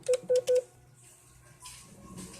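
Three short touch-tone keypad beeps as a phone number is keyed in on a telephone, evenly spaced and clear, followed by quiet line hiss and faint background murmur.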